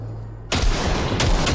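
A long continuous burst of rapid gunfire from a gun in Cyberpunk 2077, loud and close, starting abruptly after a quiet lead-in and rolling on steadily to the end.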